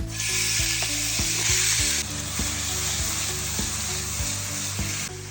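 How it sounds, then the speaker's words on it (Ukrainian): Loud, steady sizzling of diced meat frying in a preheated pan, with a few sharp clicks and knocks of a utensil stirring throughout. "Нарізали та відправляємо на розігріту сковорідку"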